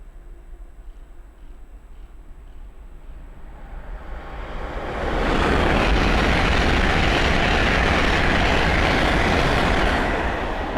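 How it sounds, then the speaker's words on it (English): A Hull Trains Class 800 passes on the East Coast Main Line at Sandy, running from Edinburgh Waverley to London King's Cross: a quiet rumble swells into a loud, sustained rushing roar of the train going by close at hand. "we'll have a Hull train 800 coming down, going from Edinburgh Waverley to London King's Cross"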